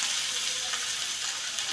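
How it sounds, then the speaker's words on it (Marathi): Green chilli and onion frying in oil make a steady, bright hiss of sizzling, close and unbroken for a brief moment, with no voices. "मिरची आणि कांदा चांगला फ्राय करून घ्या"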